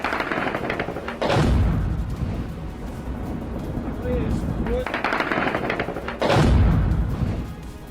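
Explosions during Russian strikes in Ukraine, heard as two loud, rumbling booms several seconds apart over a continuous noisy background, with faint chirping sounds between them.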